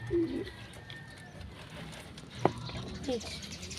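Domestic pigeons cooing in a loft while water is added to their drinker, a few soft low coos early on and near the end, with light handling sounds and background noise around them.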